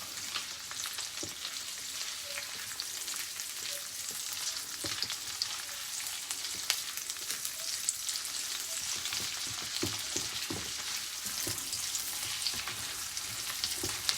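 Onion and two cloves of crushed garlic fry in a pan, giving a continuous hissing sizzle of moderate level with scattered crackles and light stirring clicks, with no voices.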